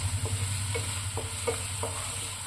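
Onion and green chilli sautéing in a pan with a little salt, a steady low sizzle with five evenly spaced soft stirring scrapes, close and fairly quiet, no voices.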